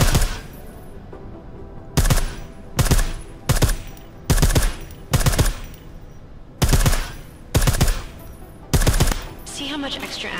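Silenced gunfire in Deus Ex: Mankind Divided, a series of about nine sharp, muffled shots in short bursts spaced evenly apart, fairly close and loud, with quiet gaps between them.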